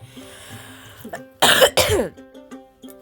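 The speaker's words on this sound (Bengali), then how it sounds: "আর এই যে কাশি, ঠিক আছে, কাশতে কাশতে গলা ব্যথা হয়ে যাচ্ছে" A woman coughs in a mud-walled house, two loud harsh bursts in quick succession near the middle, with quieter throat sounds and faint background tones before and after.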